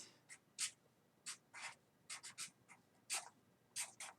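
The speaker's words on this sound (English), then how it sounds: "All right, so we're going to write this down." A pen writes on paper in close, quiet strokes, a series of short scratchy bursts in an irregular rhythm against a faint hiss, with no talking.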